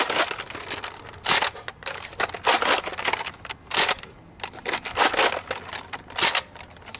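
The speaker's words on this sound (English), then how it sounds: "Okay, that's it for shooting the darts." Nerf N-Strike Longstrike blaster firing elite darts, a series of sharp broadband bursts spaced irregularly over several seconds, each a quick puff-and-snap close to the listener, with no talk.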